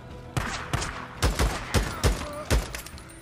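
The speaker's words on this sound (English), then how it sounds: "you're gonna just straight start shooting?" Gunfire in the video game Days Gone, about seven sharp shots in an irregular volley, each with a booming low thump, fairly loud over a soft game background.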